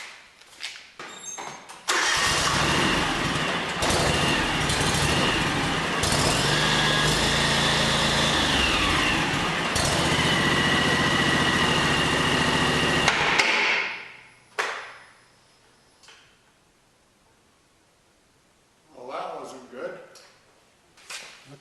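A John Deere X729 yard tractor with a snow blower attachment starts with a quick crank and runs loud and close for about eleven seconds before shutting off, followed by quieter clunks and a voice talking.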